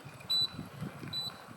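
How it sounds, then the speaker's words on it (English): A Segway Ninebot GoKart reversing gives two short, high electronic warning beeps about a second apart over a low rolling rumble, with no voices. "Oh, and it's beeping up like you're a big car going backwards."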